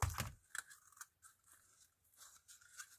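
Ribbon cut with scissors during a craft project, heard as a quiet, close snip and tear at the start, followed by faint rustling and light handling noises with a few soft clicks.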